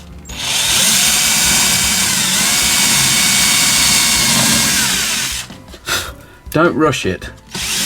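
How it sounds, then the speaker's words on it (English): A power drill bores into thin timber, whining steadily and loudly for about five seconds before stopping, after which a person speaks briefly amid a few handling knocks. "I've put a marker on the end of my drill because I don't want to drill any deeper than that."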